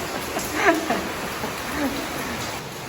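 Steady rain hisses throughout, with a faint voice murmuring briefly underneath.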